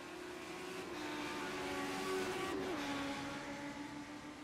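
Race cars lapping Motorsport Arena Oschersleben in iRacing during a 16-car Legend Cup event, engines holding a steady whining drone that drops in pitch partway through, moderately quiet throughout.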